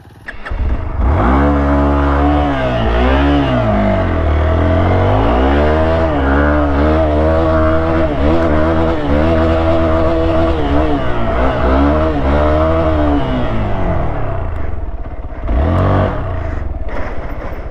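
A motorcycle revs hard while climbing a steep hill off-road, its engine loud and close, rising and falling in pitch through repeated throttle bursts over a steady roar.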